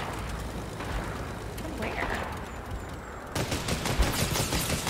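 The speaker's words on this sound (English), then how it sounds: "I'm shooting at him" Rapid bursts of gunfire from a Fortnite match, dense crackling shots that continue throughout and intensify near the end, with players talking over them.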